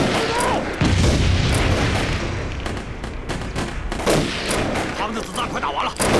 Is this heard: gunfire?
yes